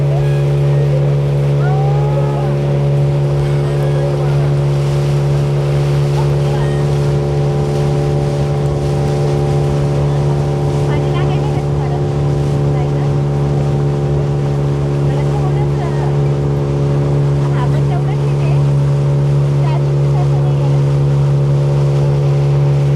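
A motorboat drones steadily at sea near Baratang Island in the Andaman Islands, its engine humming loudly and continuously under wind and water noise, with faint voices at times.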